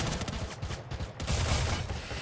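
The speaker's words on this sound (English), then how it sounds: "And a lot of gunshots being fired here, left and right." Dense bursts of gunfire crackle from a Free Fire esports match at the World Esports Cup, rapid overlapping shots filling the whole stretch, loud and continuous.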